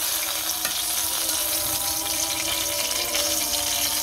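Koi fish stuffed with mustard frying in a pan, giving a steady, moderately quiet sizzle with bubbly crackle throughout and no voices.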